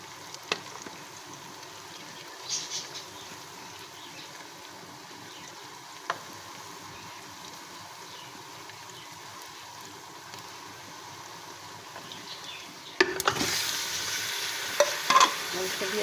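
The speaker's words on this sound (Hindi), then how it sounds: "और इसको भी अच्छे से फ्राई कर लेंगे।" Bone-in beef frying in a pot with garlic, ginger and cumin for a spinach and turnip curry, a soft continuous sizzle with occasional stirring scrapes, growing louder and busier near the end.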